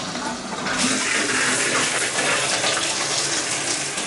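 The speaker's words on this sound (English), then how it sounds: "And there we have the good water pressure." An adjustable shower head set to high sprays water at strong pressure, a loud steady hiss that starts after a brief quieter moment and holds throughout.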